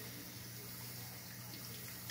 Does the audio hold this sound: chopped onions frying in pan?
no